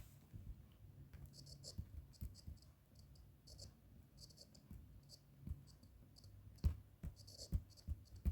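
Pen writing by hand on paper, faint soft scratchy strokes in short irregular bursts, close and quiet, with a low background hum.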